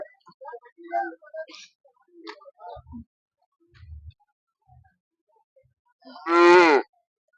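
A single loud, drawn-out moo from a Jersey or HF calf near the end, at a morning cattle market in Honnali, after quiet shuffling and faint low thumps.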